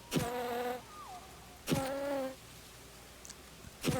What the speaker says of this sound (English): I was ignoring all the bees in the trunk.